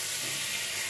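Black cumin, dried chilli and bay leaf crackle in hot oil, giving a steady, close sizzle with a bright hiss that holds through the short stretch without a break.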